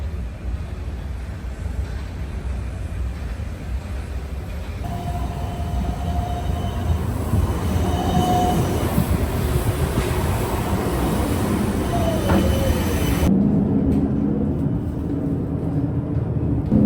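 A tram running through Amsterdam, a steady rumbling rolling noise with faint wheel squeals and tonal whines rising midway, continuous and fairly close for the whole stretch, with no talking.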